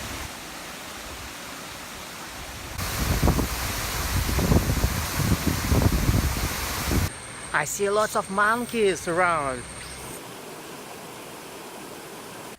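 Waterfall at Seven Waterfalls in Langkawi, a steady broadband rush of falling water that swells louder partway through, with a person talking briefly over it.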